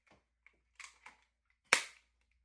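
A Nerf Dust Storm Max lever-action toy blaster gives a sharp, loud pop when fired. Several small clicks and rattles come first, from the lever and the mechanism being handled, and the single shot stands alone, close by, with no talk.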